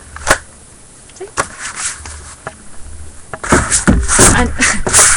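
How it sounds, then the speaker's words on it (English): Plastic journaling folders holding stamps shift and slip against each other inside a cupboard, giving scattered scraping knocks and rustles that grow busier toward the end, with a person talking over them. "every time I pull one out, another one slips, which is the noise you can hear in the cupboard"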